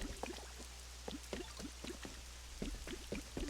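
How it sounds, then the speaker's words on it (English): Rain in the video game Pokémon Pokopia: scattered drops patter irregularly over a low steady hum, like light rain splashing, with no voices. "Now it's raining."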